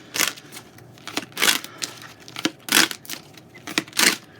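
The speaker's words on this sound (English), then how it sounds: "I'm going to shuffle and just focus." Tarot cards being shuffled in short riffling bursts of crisp, papery crackle, close and fairly quiet, repeating at an irregular rhythm with no talking.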